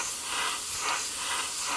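An airbrush sprays thinned paint onto a 1/72 scale Airfix Buccaneer S.2B model kit, making a steady, close hiss that swells slightly in brief pulses as the trigger is worked.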